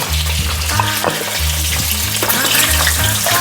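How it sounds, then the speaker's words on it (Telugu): Chili powder frying in oil for a spicy egg curry, with a loud, constant sizzle and stirring scrapes up close, and no one speaking. "చూడండి ఎంత బాగా వేగుతున్నాయి చూడండి"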